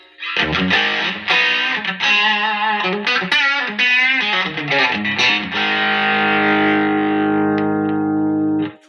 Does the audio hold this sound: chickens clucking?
no